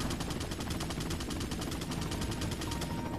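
Rapid, evenly spaced gunshots in Resident Evil 4 run as one continuous burst of steady automatic-style fire at an even loudness, with no talk.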